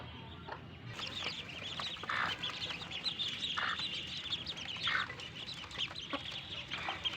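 Ducklings feeding on earthworms, a mix of soft peeping and chirping calls and dabbling sounds close by, repeated in short bursts over a quiet background.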